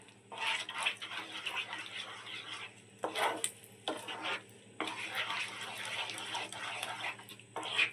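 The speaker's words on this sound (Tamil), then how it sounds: "இப்போ நல்லா கிளறி விட்டுட்டு நம்ம இறக்கிட வேண்டியது தான்" Bombay halwa with ghee stirred in a pan, a steady scraping swish in bursts with brief pauses, close and moderately loud.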